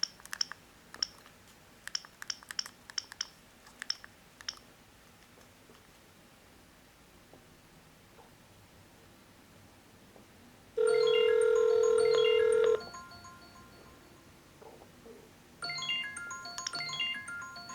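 Dialing on a Gigaset C530 IP cordless phone: a burst of short key beeps, then a steady dial tone for about two seconds, followed later by more tonal beeps, all quiet and close.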